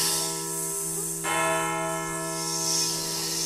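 A temple bell tolls once in an empty mountain temple in a Korean folk tale, its long ringing tone sustaining and slowly fading with no voices over it.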